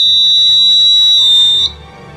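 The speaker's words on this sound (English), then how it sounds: "This is a buzzer. Used to be used in lieu of a doorbell." An electromagnetic doorbell-style buzzer driven at 24 volts gives a loud, steady, high-pitched buzz that holds for about a second and a half and then cuts off abruptly, leaving a low hum.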